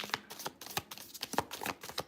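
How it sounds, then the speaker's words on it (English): Tarot card deck shuffled by hand in a live reading, a steady close series of soft riffling slaps and flicks at a quick rhythm, with no talk over it. "I just realized I was shuffling my deck that way"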